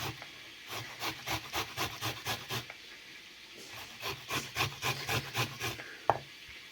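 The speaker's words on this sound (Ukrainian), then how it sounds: "Морковку натираємо на тертушці." A carrot is grated by hand on a kitchen grater: two runs of quick, regular rasping strokes, about eight each, with a brief pause between and a small knock near the end. Close and fairly quiet, no speech.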